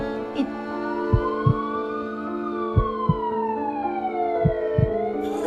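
An ambulance siren wails in a slow rising and falling sweep, loud and steady, with dull thumping beats pulsing underneath at irregular intervals.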